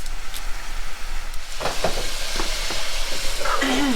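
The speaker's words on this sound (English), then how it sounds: "So we have our meat cooking here" Venison meat frying in a pan for stroganoff, a steady close sizzle and crackle with a few scraping stirs and a brief higher whine near the end.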